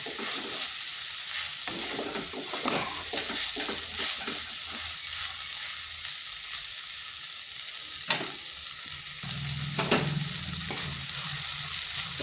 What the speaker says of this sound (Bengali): এই সজনে ফুলটা একটু সময় ধরে ভাজতে হবে, না হয় তার কাঁচা গন্ধটা থেকে যাবে